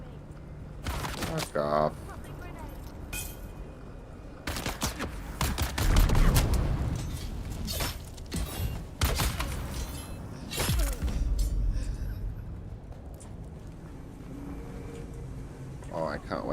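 Enemy gunfire in a video game comes as bursts of rapid shots and impacts over sustained game noise, with a player talking and swearing over the action.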